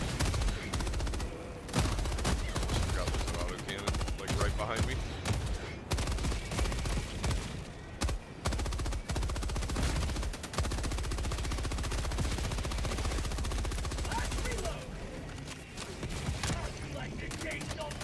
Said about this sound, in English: Forgot there's an auto cannon like right behind me.